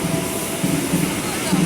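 Commuter train pulling into Bogor station in the morning, a steady broadband rumble and hiss of rolling railcars filling the platform, with a busy crowd murmuring underneath.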